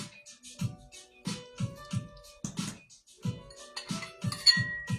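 Fancy decorative glass pieces are handled, giving a series of light clinks and taps at an irregular pace, close and fairly quiet.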